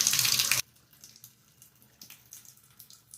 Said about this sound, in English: I just shut it off so I can actually open this and let whatever water is in the system run out